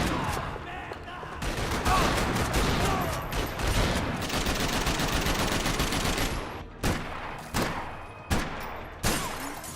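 Max Payne 3 gunfire rattles in dense, sustained bursts like automatic weapons, then breaks into a few separate sharp shots spaced apart near the end, loud and close, with some speech underneath.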